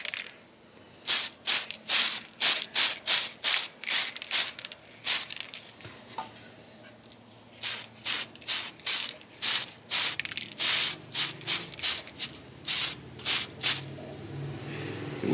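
A spray can paints a Traxxas TRX4M body in a rapid series of short, sharp aerosol hisses, closely spaced bursts with brief gaps and a short pause midway, close and loud.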